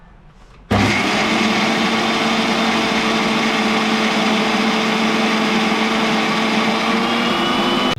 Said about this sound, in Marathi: याला आता मिक्सरच्या भांड्यात वाटून घेऊया एकदम बारीक वाटायचं